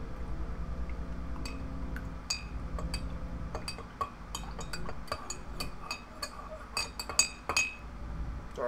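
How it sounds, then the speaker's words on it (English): A spoon stirs coffee in a glass cup, giving a quick run of bright clinks and taps against the glass, close and fairly clear over a low background hum, with no talking. "Sorry, forgot to stir my coffee."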